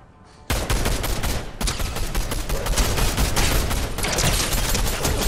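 Rapid bursts of gunfire from a computer-controlled bot in a shooter video game, loud and dense, kicking in after a brief quiet moment and hammering on almost continuously, with no talking over it.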